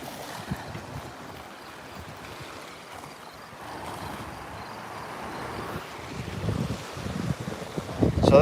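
Wind buffeting a microphone along a rocky lakeshore or coastline, with low rushing surf and lapping water underneath, steady at first and then swelling louder and rougher toward the end.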